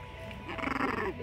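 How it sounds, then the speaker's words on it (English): A 19-day-old Boston Terrier puppy lets out a small, close growl that wavers into a soft whining rumble, with a voice nearby. "You growling at me?"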